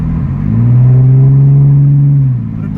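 BMW E46 with a catless Greddy Y-pipe and single-exit blast pipe exhaust revving, a loud, close, deep drone that swells and holds steady, then drops back to idle.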